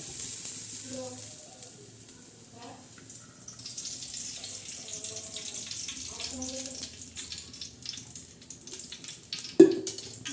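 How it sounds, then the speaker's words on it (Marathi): Cooking oil poured into a pan while making chicken pulao gives a steady hissing, splashing pour that runs under faint background voices, with a sharp clatter near the end. "आता आपण तेल टाकणार आहोत"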